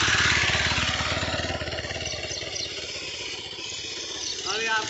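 A Bajaj Pulsar motorcycle fitted with a bicycle wheel runs close by with a rhythmic, putting engine note that is loudest at the start, then settles and swells again near the end, with voices talking over it.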